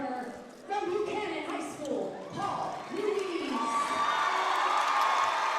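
Crowd at a high school wrestling tournament finals swells into cheering and shouting, rising from a quieter start to a loud, sustained roar near the mat, with a commentator talking over it.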